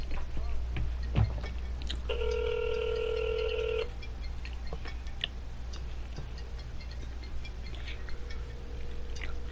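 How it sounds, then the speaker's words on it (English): A phone ringing during a Battlefield Hardline multiplayer match, one short steady electronic ring tone under continuous game noise and faint talk. "I hear his phone."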